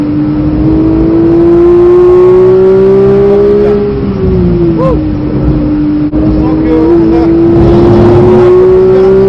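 A Porsche 992 GT3 at speed on the Nürburgring, heard from inside the cockpit as a loud, sustained engine drone that climbs and dips with the throttle, under a driver's running commentary.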